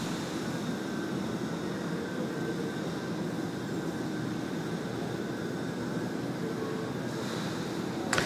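A United airliner taxiing at Sydney Airport, a steady broadband engine rumble and whine holding level throughout at a moderate distance, with no voices.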